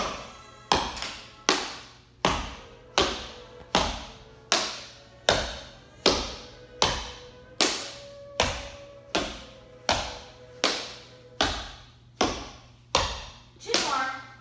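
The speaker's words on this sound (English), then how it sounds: "make sure that both knees are bent so you're getting the same sound with all 3 taps." Steady, evenly spaced taps from tap dance shoes on a floor, around twenty crisp strikes in a regular rhythm, close and clear with a faint hum beneath.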